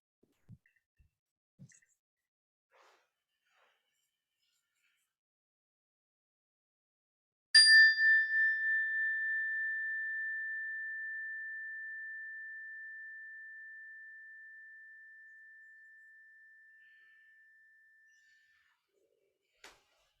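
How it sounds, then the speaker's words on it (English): A single meditation bell struck once after near silence, its clear pure tone ringing out and slowly fading over about ten seconds, with a few faint soft taps around it. "when you hear the sound of the bell"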